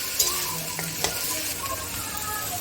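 Ginger and green chili paste, made with slightly reddened chilies, sautés in a pan with a dense close sizzle and occasional scrapes and knocks from stirring.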